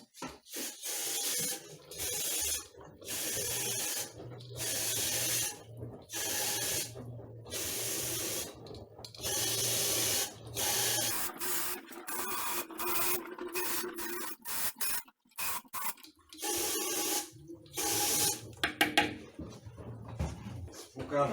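Water gushes from an opened boiler drain while sediment is flushed out, coming in repeated splashing bursts broken by short pauses, with some nearby handling noise.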